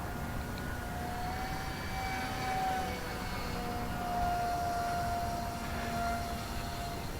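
An RC SU-35 model jet flies at about 60% throttle, giving a steady distant whine with a slowly shifting tone that rises and falls as it passes, with no voices.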